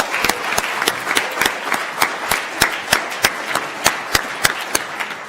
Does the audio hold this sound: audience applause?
yes